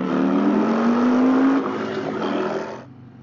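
Indian Chieftain motorcycle with a 126 engine revving hard to warm its tires, a loud sustained roar rising in pitch before dropping back toward idle.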